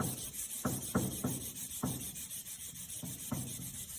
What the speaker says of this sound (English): I'll go 220 or let me go 320 and just do a little sanding here